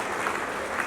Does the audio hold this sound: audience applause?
yes